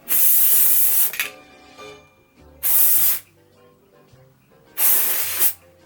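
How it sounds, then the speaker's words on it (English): Not Your Mother's Clean Freak dry shampoo sprayed into hair in three loud, close, hissing bursts of about a second each, separated by short pauses, with no talking. "what I'm first going to do is put in dry shampoo"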